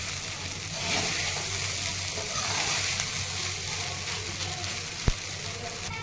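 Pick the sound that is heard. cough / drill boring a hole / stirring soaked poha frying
stirring soaked poha frying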